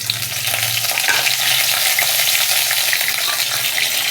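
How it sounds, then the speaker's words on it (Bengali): Bay leaves, cardamom, cinnamon and cloves temper in hot oil that spatters because of water in it, a loud dense crackling sizzle with small popping bursts, close and constant for a few seconds. "তেজপাতাটা দিয়েছি, জল আছে বলে তেলটা ছিটকাচ্ছে।"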